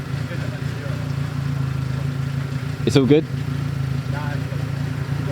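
Saab convertible engine idling through a muffler-delete exhaust, a steady low rumble running throughout with a brief louder burst of talk near the middle.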